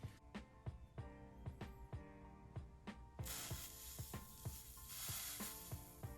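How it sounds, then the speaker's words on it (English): Rhythmic clicking taps repeat steadily, then a loud hissing sizzle from a soldering iron working stained glass bursts in and continues under the ongoing clicks. "Wow, it makes a sizzling sound."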